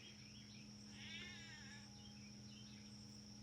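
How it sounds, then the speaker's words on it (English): A pet cat meows once, faint and somewhat distant, rising and falling over a steady electrical hum and insect-like whine, with a couple of fainter mews after it; no one talks. "There's my cat there."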